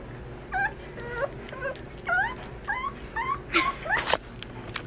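A new puppy whines in a series of high, wavering whimpers and yips, about half a dozen short cries spread across the clip and rising into a couple of louder squeals near the end, heard fairly close over a low background hum.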